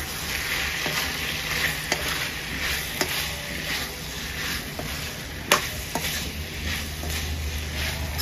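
Pumpkin with dry fish curry and fried dried chillies sizzling steadily in a pan over a low flame, with a few light scrapes of gentle stirring over the continuous close frying hiss.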